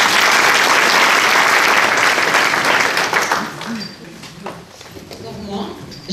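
An audience at a municipal election meeting in Bessan claps loudly and steadily for several seconds, then the applause thins out as murmuring voices and scattered claps remain.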